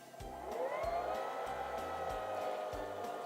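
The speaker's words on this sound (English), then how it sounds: "And now we can finish winding the bobbin." A Singer 3337 sewing machine winds a bobbin with a steady, close motor whine that rises in pitch as it speeds up, under a regular low thumping rhythm from the mechanism and no talking.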